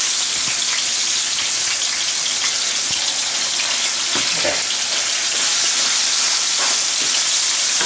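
Minced garlic, about one and a half tablespoons, sizzles steadily in a hot pan as part of a stuffed pork loin recipe, a dense continuous crackle with a few louder pops and stirring scrapes, no talking.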